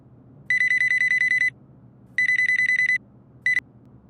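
A telephone rings out as a call is placed, a loud steady electronic trill in two long bursts and a clipped third, close and clear over a quiet hum with no talking.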